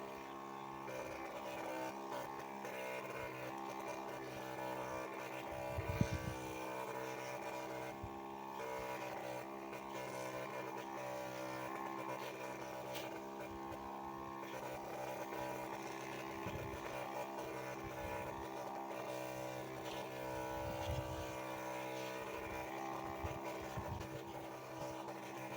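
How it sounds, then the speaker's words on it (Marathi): A motorized pump sprayer runs continuously while dusting powder over crops on a farm, its steady engine drone with harmonic hum holding throughout, a few low thumps and bumps rising briefly over it. "पंप एवढा काही प्रेशर फेकत नाही आहे."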